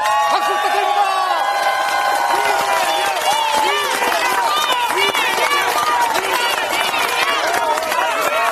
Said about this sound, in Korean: 다시 한번 이재명 연호로 박수 부탁드립니다.